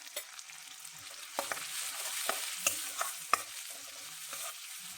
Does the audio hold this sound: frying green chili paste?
yes